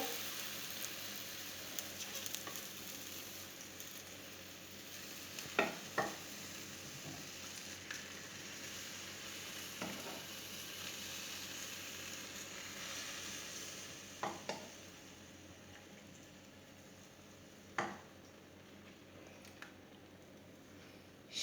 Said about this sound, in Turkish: Üstüne döküyoruz. Bakın çızırtıya.